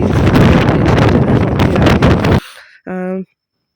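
Strong wind roars and buffets loudly during an open jeep ride up to Mandalpatti peak near Madikeri. The gusts last about two seconds, then cut off, and a brief voice follows.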